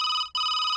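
A home telephone rings in steady bright electronic tones, two rings separated by a short gap, clear and close with no voices over them.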